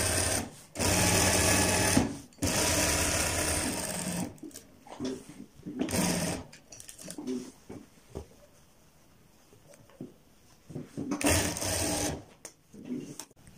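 A sewing machine stitches a kurta in loud, close bursts of fast mechanical whirring, each lasting a second or several, with quieter handling noises and pauses between them.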